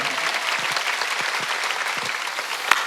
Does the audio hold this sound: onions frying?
no